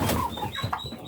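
Turkeys on a small integrated farm, with pens below other livestock, give short nasal calls and chirps close by over a low background murmur.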